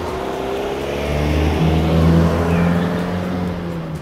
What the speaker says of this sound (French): vous allez voir à quel point les voitures vont galérer à monter